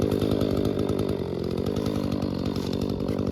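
A chainsaw roars steadily at close range cutting a tree, its engine droning loud and continuous with a slight dip in pitch partway through as it binds in the wood.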